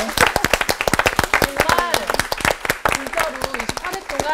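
Audience members at a psychology lecture concert clap in a loose, uneven patter of sharp hand claps, with voices talking over the applause throughout.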